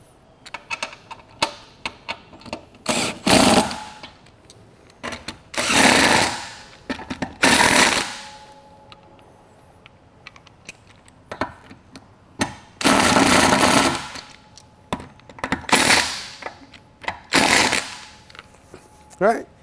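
Wrench tightening the spare tire lug nuts on a 2012 Jeep Wrangler, heard as several loud, separate bursts of ratcheting clicks spread across the clip, with quieter handling noise between them.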